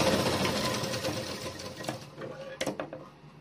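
A sewing machine runs close by in a fast, steady whir, stitching a doubled strip of fabric for a small festival outfit, then slows and stops with a few clicks near the end. A voice talks faintly underneath.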